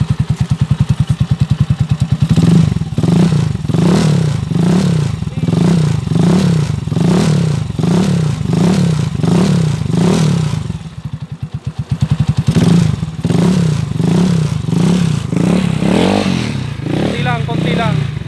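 A TMX155 motorcycle engine revs repeatedly in steady pulses with a rough, throaty exhaust, close and loud, briefly dipping before revving again.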